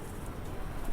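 A spotted Rampuri pigeon, a jumbo-size breed, gives a soft, low coo in a brief, faint burst close by, with no talk over it.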